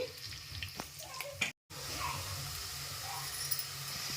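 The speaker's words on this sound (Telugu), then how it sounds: "ఉల్లిపాయ బాగా ఎర్రగా వేగాలండి" Onions frying in hot oil for a drumstick sambar tempering, a steady broadband sizzle running nearly throughout with a brief dropout near the middle, close and moderately loud, no talking.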